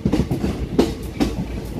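A passenger train runs near Modinagar with a steady rumble, and wheels clatter over rail joints in a few distinct rhythmic clicks over a continuous rolling roar.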